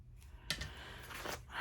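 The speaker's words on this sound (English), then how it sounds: "Let's see if I can straighten that up with my scissors." A few quick snips of scissors trimming paper in a travel journal, close and fairly quiet, in a short sequence.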